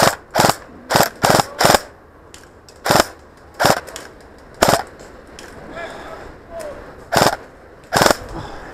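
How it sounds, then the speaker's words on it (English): Sharp airsoft gun reports crack during an outdoor airsoft game, a string of loud, close snaps spaced irregularly over several seconds with quiet gaps between them. "There's a single shot somewhere."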